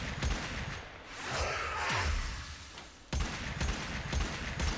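A weapon fires in Warframe in semi-automatic mode, a dense, fairly loud rattle of shots with a sweeping whoosh in the middle and another burst after a brief dip.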